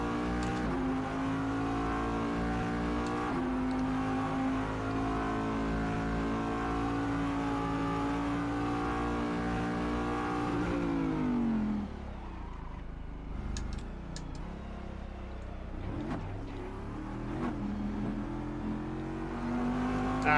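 A Daytona Prototype race car engine in the racing game Assetto Corsa drones steadily at high revs, then drops sharply as the throttle lifts before climbing again, loud and continuous with no talk.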